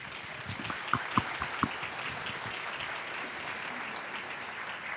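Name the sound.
audience applause for speaker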